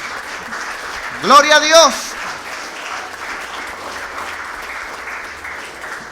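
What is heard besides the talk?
congregation clapping hands in church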